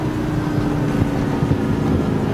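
Spyker C8 with an Audi V8 engine being downshifted, a steady low engine rumble with rising and falling revs under a constant broadband road and wind roar throughout.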